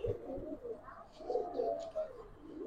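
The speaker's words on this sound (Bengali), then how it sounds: "পুরান জাতের সাপ চিলেটের কবুতর।" A female Sabchila Giribaz pigeon of an old breed coos softly, a few low, rolling murmurs rising and falling, faint and close.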